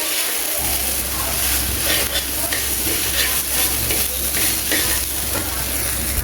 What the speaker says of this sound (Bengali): ভালো করে নেড়েচেড়ে দিতে হবে। চুলার আঁচটা বেশি বাড়ানো যাবে না, মাঝারি আঁচে রান্না করতে হবে।